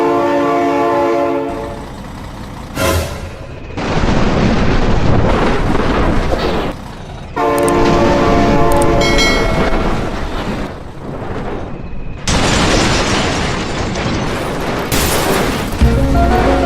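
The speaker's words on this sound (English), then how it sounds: "Oh my god, train!" A train in a BeamNG driving game roars past with repeated loud blasts of its horn, heavy rumbling and clattering between blasts, close and dominant throughout.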